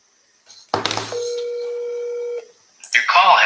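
A phone number is punched in for a call to a seller: a few quick keypad tones, then one long steady dial tone lasting over a second, followed by a brief burst of noise at the end.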